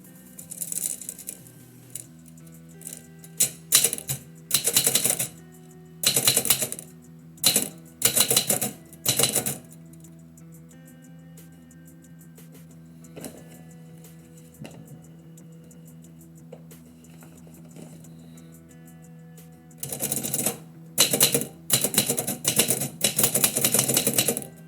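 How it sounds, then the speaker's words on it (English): Typewriter keys strike in quick rhythmic runs while poetry is typed live, each burst of clacking ending with pauses and a bell or carriage sound, close and crisp in a quiet room. "you'll have some good typewriter ASMR"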